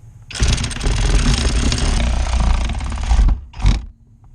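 A power tool runs a nut onto the studs of a hydro boost unit on a Chevrolet or GMC truck, one loud sustained rattling burst of about three seconds followed by a short second burst, close by.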